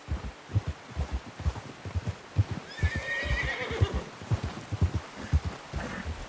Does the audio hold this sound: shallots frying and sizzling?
no